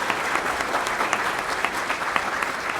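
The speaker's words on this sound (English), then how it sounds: "we'd all like to give DARPA a round of applause" Steady applause from a crowd, dense overlapping claps filling the space at an even, sustained level throughout.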